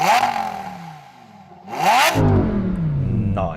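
A 5.2-litre naturally aspirated V10 in a Lamborghini Sterrato revs hard twice, the first rise falling away into a lull before a second sharp, loud surge that holds at a high roar, up close.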